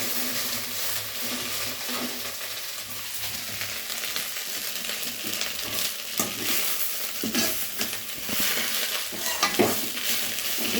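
Curry leaves fry in a pan of oil with a continuous close sizzle, while a spoon stirs them in repeated scraping strokes that grow busier toward the end; no one speaks.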